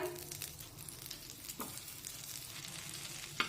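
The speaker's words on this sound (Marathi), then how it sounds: "गॅसवर मी तवा गरम करायला ठेवलेला आहे त्यावर थोडंसं बटर टाकूया" Butter sizzles and crackles on a hot griddle over a gas stove, cooking pav bhaji, in a steady frying hiss, broken by a couple of brief scraping clicks.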